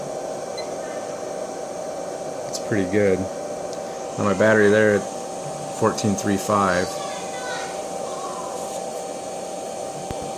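A fan hums steadily in the background during battery testing, a constant faint whir under a man's intermittent speech.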